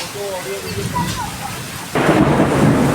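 A few faint bird chirps sound over falling May rain in the Konkan, then a loud roll of thunder rumbles in and continues to the end.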